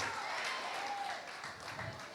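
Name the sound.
congregation applause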